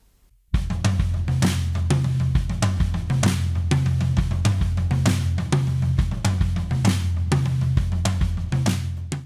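Mixed drums roll around the toms, recorded with SM57 microphones, punchy low hits layered with cymbals and snare, loud and continuous after a brief quiet start.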